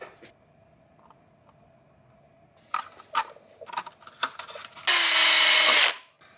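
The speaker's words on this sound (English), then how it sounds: "now I just gotta drill a hole in the body" Scattered clicks and handling noises, then a loud power drill whirs for about a second, drilling a hole in the plastic body of an Axial SCX24 C10 RC car, before spinning down.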